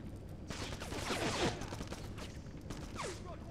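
Gunfire in the PS2 shooter Black, a cluster of bursts and shots from the game over a steady background, loudest mid-clip with a few later sharp reports.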